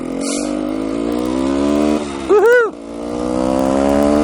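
A 1973 Suzuki TS250K Savage motorcycle engine runs steadily close by with its choke off, then blips sharply in a quick rising-and-falling rev before settling back to a smooth, loud idle.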